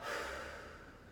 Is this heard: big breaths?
yes